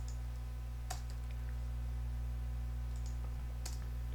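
Computer keyboard keys click a few times against a steady electrical hum, faint and close, including a press of the enter key.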